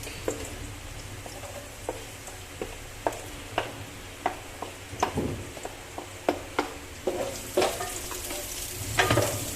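Onion and garlic frying in oil in a pan for chicken adobo with chicken liver and gizzard: a soft, steady sizzle broken by regular scraping clacks of a spoon stirring, moderately close.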